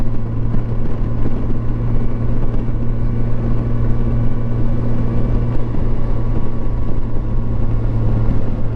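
A 2007 Yamaha FJR motorcycle with its stock exhaust rides along, with a steady loud engine drone and wind rush that hold for the whole stretch, and no one speaks.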